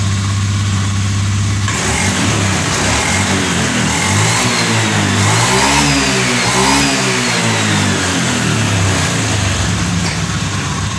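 A car engine revving after its fuel pump was replaced, with the fault causing sputtering: it idles loud and close, then climbs and falls through several rough revs, with no talking.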